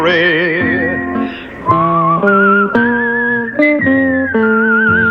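A lone whistler carries a western theme-song melody, the clear sustained notes stepping up and down in a loud, close, tuneful line.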